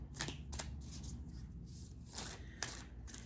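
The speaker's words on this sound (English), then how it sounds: "I'm going to continue to shuffle this deck." Crisp riffling bursts of a card deck being shuffled, several quick flurries with brief pauses between, close and fairly quiet.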